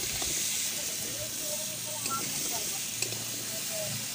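Chili and cumin tempering sizzling in hot oil in a home kitchen, a constant soft hiss and crackle with small pops and light stirring clatter, heard up close at a low level.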